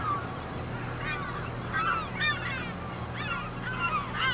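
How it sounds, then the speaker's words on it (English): Seagulls in Farming Simulator 25 give repeated squawking, honking calls in loose bursts over a steady low engine-like hum, moderately near and clear. "Look at all those seagulls."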